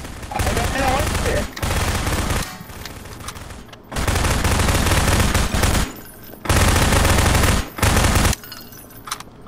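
Loud bursts of rapid automatic gunfire in the video game Garry's Mod prop hunt, several long sustained volleys separated by short pauses.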